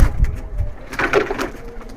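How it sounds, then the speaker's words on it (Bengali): Giribaz pigeons coo softly nearby, with a low throaty burst at the start and a fuller rolling coo in the middle, amid light handling noise and no talking. "দেখেন আরো একটা কবুতর, মাশাআল্লাহ খুব সুন্দর দেখতে"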